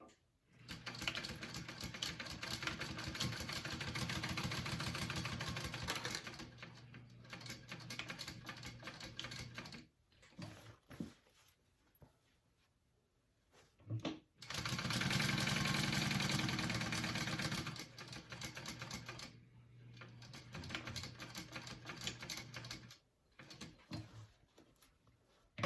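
A sewing machine stitches the lining of a fabric wristlet in two long runs of rapid, steady mechanical whirring and ticking, separated by quiet pauses, with short bursts between them, close and fairly loud with no talk.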